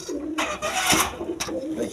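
Bombay pigeons on a farm coo in a continuous low, throaty burble, close and fairly loud, with brief rustling or flapping bursts through the short stretch.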